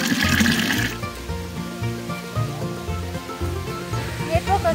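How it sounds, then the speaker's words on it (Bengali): Water from a mountain spring in a hill village near Tamu Homestay, Meghalaya, pouring in a steady loud rush, with indistinct talk faintly under it. "এটা এখানের কোনো এক পাহাড়ি ঝর্ণা থেকে বয়ে আসা জলধারা"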